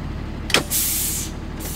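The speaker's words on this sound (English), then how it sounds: "Now I'll test my tractor parking brake." On a Class A truck tractor's air brake system, the parking brake test brings a short clunk and then a loud, steady hiss of released air lasting about half a second.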